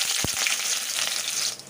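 Onions dropped into hot oil with cloves, cinnamon and cardamom for egg curry, a brief thump followed by a bright, steady close sizzle that fades slightly at the end.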